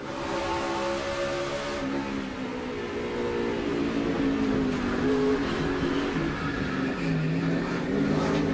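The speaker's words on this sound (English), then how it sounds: "on board the 6th car of Casey Kane" Onboard sound from a NASCAR race car during the 2005 Food City 250 race: a loud, continuous engine roar that rises and falls slightly in pitch as the car runs, alone without talk.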